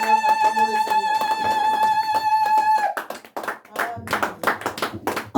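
A church congregation claps hands in worship, rhythmic group clapping that starts under sustained music and singing, then continues as loud, uneven bursts while a voice speaks over it.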